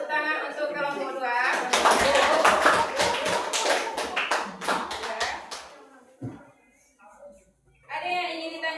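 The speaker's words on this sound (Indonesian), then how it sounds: "Saya beri tepuk tangan untuk kelompok 2." A primary school class claps for a group after its presentation, a burst of quick overlapping hand claps between stretches of a teacher talking, fading out near the end.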